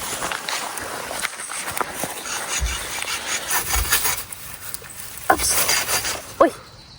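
A hand saw cuts through wood outdoors in a forest, giving rough rasping strokes with a few sharper knocks near the end, fairly close and moderately loud.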